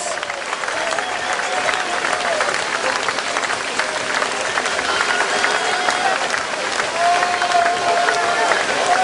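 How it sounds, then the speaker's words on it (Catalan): Spectators in Sort, Spain applaud the women's K1 freestyle kayak medalists, steady dense clapping that carries through the whole stretch with some crowd noise mixed in. "Un fort aplaudiment per elles."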